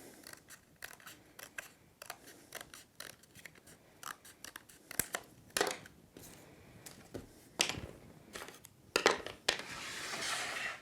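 Scissors cut through a folded paper template close by, a series of short snips and rustles, some sharper and louder, ending in a longer crinkling rustle.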